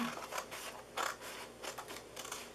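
Scissors snip through a paper Thanksgiving treat box along a score mark, giving a few close, crisp cutting crunches and scrapes in quick succession, with no talk.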